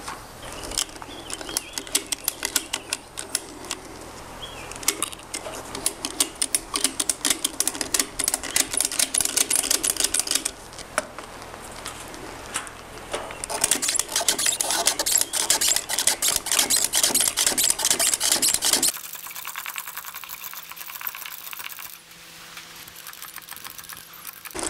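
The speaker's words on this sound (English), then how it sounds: "let me go and try and see if I can just ratchet it up that way" A ratchet strap with a quick release, used to lift a floor joist while framing around a stairwell in a cabin, gives off long runs of fast, loud mechanical clicking and rattling. The clicking stops near the end, leaving a quieter hum.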